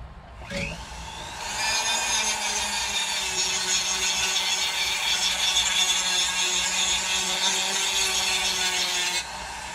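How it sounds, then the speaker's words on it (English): A rotary tool with an extra coarse Kutzall bit spins up and grinds steadily into wood while carving a habitat base, a loud whining, rasping buzz heard close before it stops abruptly. "I'm going to use this extra coarse cuts all bit here"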